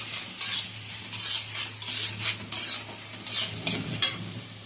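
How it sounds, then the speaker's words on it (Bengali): Ground spices, turmeric, Kashmiri chili powder and cumin with a little sugar, fry in a pan with several scraping stirs over a constant sizzle, close and clear, with no one talking. "তো ভালো করে ভেজে নেব মশলাগুলো"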